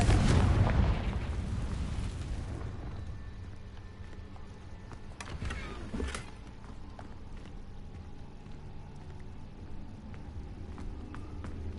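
A Confringo blasting spell explodes in Hogwarts Legacy with a loud booming burst at the start that fades into a low rumble, followed by a couple of fainter pops and thuds.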